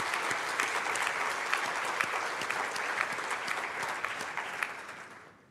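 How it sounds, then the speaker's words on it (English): Audience applause at an international high-level forum on the IAEA ATLAS initiative, a dense steady wash of many hands clapping with a few sharper claps standing out, loud and close, fading out at the end. "just give those guys a quick round of applause"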